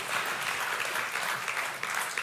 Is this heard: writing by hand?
no